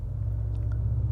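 A 2022 Acura MDX Type S SUV in Sport mode accelerating from 0 to 60, heard as a steady deep engine rumble from inside the cabin, loud and unbroken for about a second.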